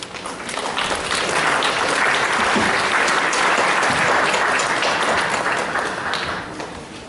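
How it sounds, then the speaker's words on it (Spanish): A seated audience at an education faculty lecture gives a warm, full round of applause for the dean, swelling quickly and holding steady before tapering off. "Recibimos al doctor Luis Cuadros Paz con un fuerte aplauso."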